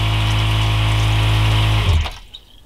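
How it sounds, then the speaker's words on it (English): A camper's water pump hums steadily with running water from a faucet, loud and close, then shuts off abruptly near the end, leaving quiet drips. "when you turn the water on, the pump automatically turns on."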